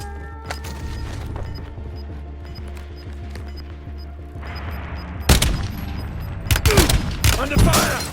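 Rapid gunfire and booms in Call of Duty Warzone on Verdansk, with bursts of shots building into a loud volley in the second half, under game voice callouts and effects.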